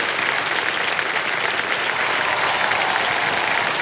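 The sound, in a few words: studio audience applause on a game show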